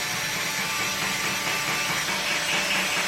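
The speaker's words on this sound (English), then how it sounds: "pre-drilling all of the holes for when I go to add my screws" A power drill bores pilot holes into wood while building a mobile hedge wall, giving a steady, close whirring grind that runs continuously without pauses.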